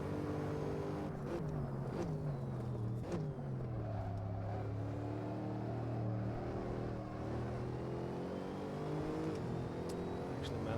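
A GT3 race car engine in Assetto Corsa at Laguna Seca drones steadily throughout, its pitch rising and falling through gear changes with a continuous close-up roar.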